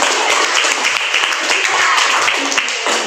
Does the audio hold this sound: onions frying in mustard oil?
no